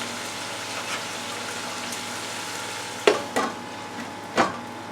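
Smothered chicken with vegetables cooking in a covered pan on a stovetop, a steady low sizzle and simmer with a few brief clinks or lid knocks near the end.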